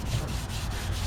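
Sanding a car's clear coat by hand on a block with 220 grit sandpaper, a steady close rubbing scrape with regular back-and-forth strokes and no talking.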